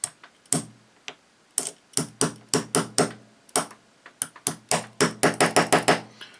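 A hammer taps a part down while a Sig pistol is assembled, sharp dry metallic knocks in irregular clusters, close and loud, speeding into a quick run of blows at the end.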